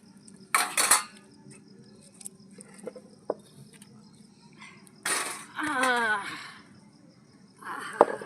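Pots and metal utensils clatter while cooking khichdi and a mixed vegetable curry, with an iron kadai set up for tempering; a few sharp clanks and scrapes come in short bursts, separated by quiet gaps, with brief voices nearby.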